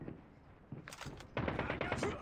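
Gunfire in the mobile shooter Call of Duty Mobile, quiet bursts of rapid shots building into a louder rattling volley near the end, with a voice talking over it.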